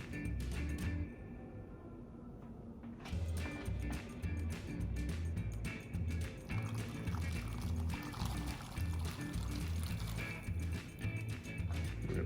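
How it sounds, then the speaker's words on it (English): Dry beans are poured into a pot of hot water in a home kitchen, giving a soft, steady rushing pour with faint splashing that continues for several seconds at low volume. "So let's get these beans into the water."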